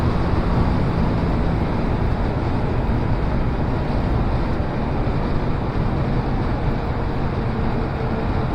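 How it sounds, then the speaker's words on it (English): Car engine revving smoothly while driving at around 35 mph, a steady broadband drone with wind and road rumble holding constant and loud throughout. "I love this engine. Just love it. It's so smooth, revs so easily, has plenty of power and torque"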